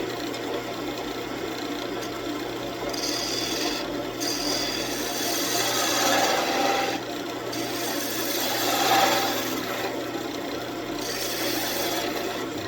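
Wood turning on a lathe as a gouge cuts it, a continuous raspy scraping hiss that swells and fades in uneven passes, heard up close with no talking.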